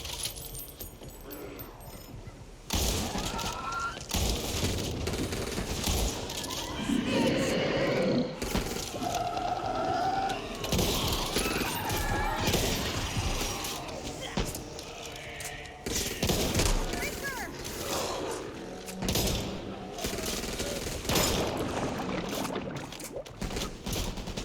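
Rapid bursts of gunfire in the zombie shooter Back 4 Blood, dense cracks and thuds layered with game effects and a voice speaking over the clatter.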